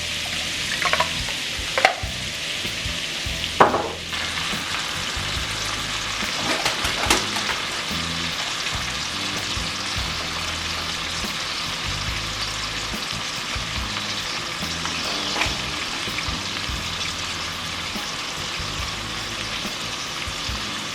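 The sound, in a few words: shrimp frying in a pan for scampi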